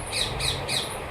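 A pet parrot gives three harsh, evenly spaced squawks, close and loud, with no talking.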